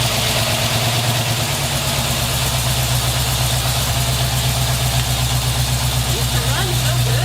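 An early Ford Bronco engine fitted with Holley Sniper EFI runs steadily at idle, a continuous low rumble with a strong low-frequency throb that holds even and loud throughout, with no pauses or revving.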